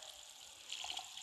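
Shower water running in the video game Among Us on the Airship map, a soft steady hiss that swells slightly for a moment partway through, fairly faint with no voices.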